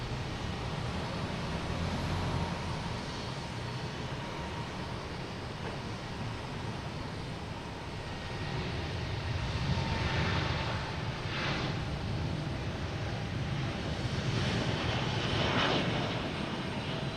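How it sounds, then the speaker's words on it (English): A Boeing 787 Dreamliner airliner at Boston Logan Airport gives off a continuous distant jet engine roar that rises and falls gently across the whole stretch, with no voices. "787 Dreamliner."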